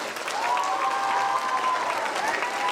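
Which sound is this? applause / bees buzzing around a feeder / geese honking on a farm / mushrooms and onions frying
applause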